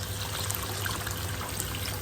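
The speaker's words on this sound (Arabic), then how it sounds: "وننزل بالميه بتاعتنا" Water is poured into a pot of sautéed rice during home cooking, giving a steady, close trickle and splash that runs evenly for about two seconds with no talking.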